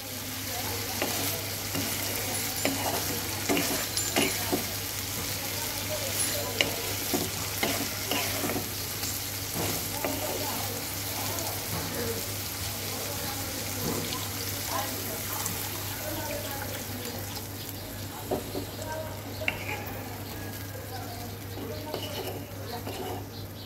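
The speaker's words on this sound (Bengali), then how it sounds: "এই দিয়ে দিলাম ঝোলের জন্য জল" Curry paste cooked down in oil keeps sizzling and frying steadily in a pan, with stirring scrapes and faint clatter of utensils as water is poured in for the gravy.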